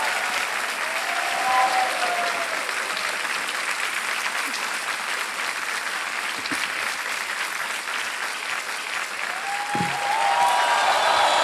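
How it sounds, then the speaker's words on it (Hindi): Studio audience applause on the game show KBC, a sustained, even roar of many hands clapping that swells slightly near the end, with brief faint tones and a host's voice barely under it. "तालियां बजती रहा इनके लिए।"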